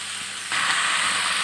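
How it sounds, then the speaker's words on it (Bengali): Chicken for a spiced chicken kasha sizzles in a pan, a soft hiss that jumps to a steady, louder broadband crackle halfway through and holds. "ভালো করে নেড়ে আমি ঢাকা দিয়ে দেব তাহলে একটু দ্রুত মাংসটা প্রপার বয়েল হবে"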